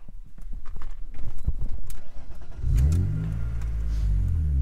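A BMW E36 street and track drift car engine cranks and starts, settling into a steady, loud idle after a short stretch of clattering sounds.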